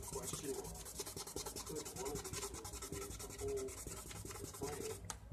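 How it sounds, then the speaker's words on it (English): Steady back-and-forth rubbing of 2000 grit sandpaper on plastic, close and continuous with a quick rasping rhythm, ending with a brief sharper scrape. "So we'll sand it a little bit more. 2000 grit sandpaper."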